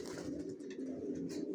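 Racing pigeons coo softly in a low, continuous murmur, several birds overlapping close by with no talk.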